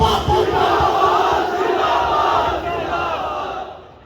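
A large crowd at a religious gathering roars the takbir in unison. It is a dense, sustained mass of voices that carries loud for most of the stretch and then fades out near the end.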